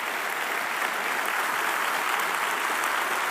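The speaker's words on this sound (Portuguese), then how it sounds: "Aplauda Jesus." A church congregation applauding during a worship service, a broad, even roar of many hands clapping that holds steady and loud from start to finish with no talking.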